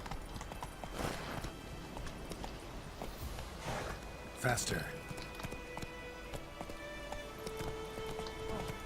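Roach, Geralt's horse in The Witcher 3, galloping with a steady, moderately loud rhythmic clip-clop of hooves over ambient game sound, while a voice speaks briefly over it.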